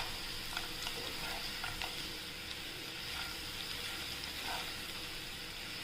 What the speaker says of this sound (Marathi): आता छान आपण त्याला परतून घेऊया 2 मिनिटं